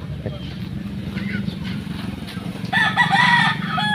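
A white rooster crows in a backyard, a bright rising call arriving about three seconds in over steady low background hum and rumble, with fainter clucks and stirring earlier.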